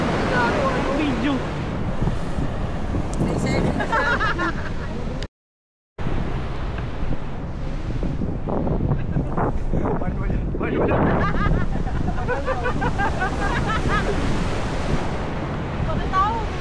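Strong surf breaking on the shore at Tinggalan in Infanta, a steady loud wash of waves with wind buffeting the microphone and people talking over it, broken by a brief gap of silence.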